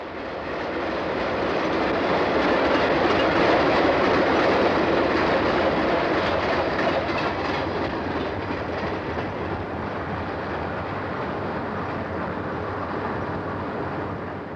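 An Erie-Lackawanna-powered Conrail freight train rolls past at steady volume, a sustained broad rumble and rush with faint clickety-clack of wagons, heard alone with no voices.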